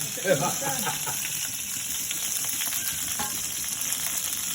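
Curry leaves and a red chilli hit hot oil on a low gas flame for a prawn curry, giving a steady, close, broadband sizzle with a brief louder crackle near the start.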